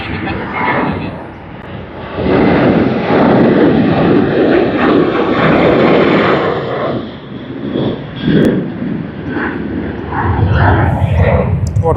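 An aircraft takes off at Sydney Airport with a sustained, loud engine roar that swells and slowly shifts, with a person talking over it.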